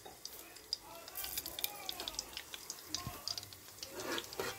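Garlic, curry leaves and tempering spices sizzle in hot oil for a moong dal curry, a soft crackling fry with stirring and scattered sharp pops, partly under a speaking voice.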